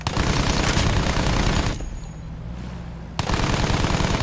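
Rapid machine gun fire in the Battlefield 1 video game, a dense continuous burst that breaks off for about a second and a half, then resumes just as loud and close.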